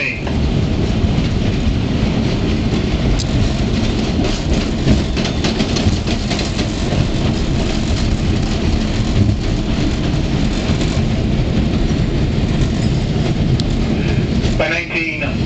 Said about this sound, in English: We're now going across the Guinness Book of Records, the world's busiest train junction, Tower 18